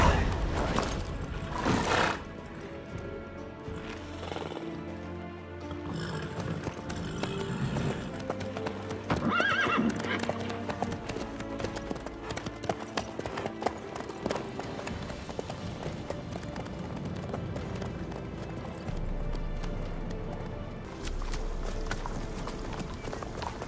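Horse hooves clip-clop steadily in The Witcher 3, with neighs and whinnies over a dense game soundscape of music and ambience, while characters talk now and then.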